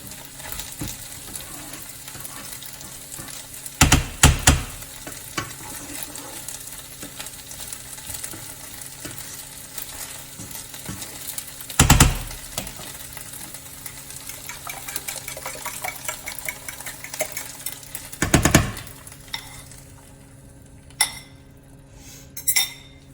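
Spanish omelette of egg, potatoes and onions cooking in a pan, a soft continuous sizzle broken by a few brief clinks and scrapes of a utensil against the pan, with no talking.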